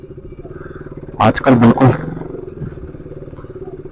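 Motorcycle riding on a rough, damaged road in Srinagar, Kashmir, its steady engine chugging throughout with a brief louder burst of noise midway, while someone talks over it.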